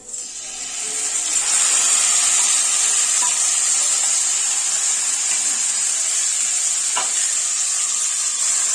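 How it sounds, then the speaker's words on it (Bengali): Ground flat bean paste stir-fried over medium heat, a loud continuous sizzle with soft spatula scrapes and one sharp tap near the end. "এবার মিডিয়াম আঁচে এটাকে আমি একটু কষাবো"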